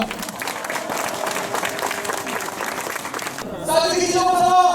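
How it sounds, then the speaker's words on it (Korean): Crowd at an outdoor rally against the THAAD missile base applauding, steady clapping with some crowd noise under a sustained tonal drone that grows louder and brighter near the end. "우리 모두를 위해서 큰 박수 주시기 바랍니다"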